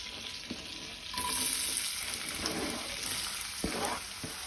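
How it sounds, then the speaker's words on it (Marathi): Chopped onions going into hot butter and oil, giving a moderate sizzle that swells after about a second and continues steadily, with a few soft stirring knocks. "तेल तापले तशें तातूंत हांव कांदो घालता।"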